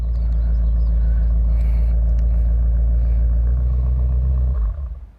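A BMW M5 Competition engine roars loudly and close by with a deep, sustained rumble that holds steady for several seconds before dropping off near the end.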